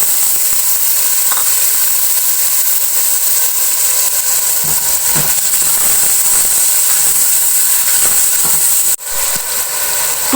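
Chopped fresh tomatoes hit a pot of hot oil for degi aloo, setting off a loud, steady hiss and sizzle that runs unbroken for about ten seconds, with faint stirring clinks near the end.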